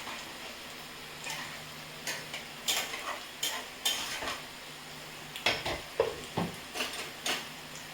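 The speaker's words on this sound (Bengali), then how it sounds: "দিয়ে এটাকে একটু নাড়িয়ে দিচ্ছি।" A vegetable chicken curry is stirred in a pot with a spoon, giving a series of irregular clinking scrapes against the metal over a faint background sizzle.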